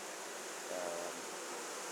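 Honey bees swarming at Biddenham give a steady, dense buzzing hum that fills the whole stretch at an even level, with no voices over it.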